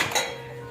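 Dishes being washed at home, a short clatter of pots and crockery knocking together at the start, then fading into a steady low running hum.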